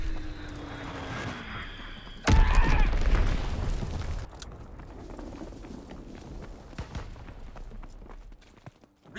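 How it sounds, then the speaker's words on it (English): A bomb explodes in Call of Duty: WWII, a sudden loud broadband blast that rumbles for about two seconds before fading into quieter battlefield ambience with scattered smaller impacts. "Enemy bomb incoming. Get to cover."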